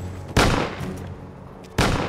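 Two loud, sharp gunshots in a film, spaced about a second and a half apart, each followed by a brief decaying echo, with no voices over them.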